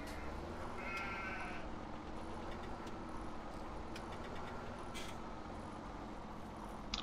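Sheep bleat in Farming Simulator 17, a couple of short, fairly faint bleats over a low, steady engine idle in the farm scene.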